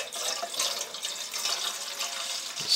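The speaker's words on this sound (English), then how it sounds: "So I'm going to fill the water up to this mark right here." Water poured from a jug into a Stanley Basecamp cookset pot, a continuous soft splashing rush filling toward three liters, fairly quiet and close, with no voices.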